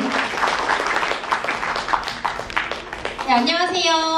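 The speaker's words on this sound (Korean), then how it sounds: "큰 박수 부탁드립니다." Concert audience applauding at a Jeju regular concert by a performing company, a dense steady wash of clapping filling the room, with a voice speaking over it near the end.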